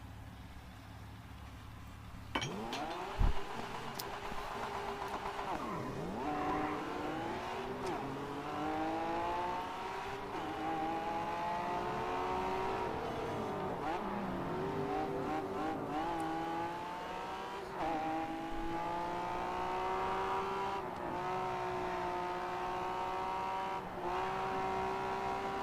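Race cars roar around the Yas Marina circuit in Abu Dhabi in GRID 2, one engine close and loud, revving up and shifting through gears with rising and falling pitch, plus occasional tire squeal and other cars nearby, continuous for the whole stretch.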